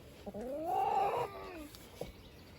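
A hen gives a drawn-out, rising cluck close by, with a few soft scratchy knocks around it in a quiet setting.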